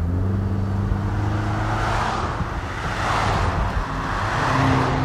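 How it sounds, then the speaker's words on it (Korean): A 2018 Jaguar XF 20d AWD with a 2.0-litre 180 hp diesel engine drives steadily, its low engine drone and tyre and road noise continuous and fairly loud, swelling slightly as it pulls along, with no talk. "그럼 지금부터 제규어 XF와 함께 달려보겠습니다"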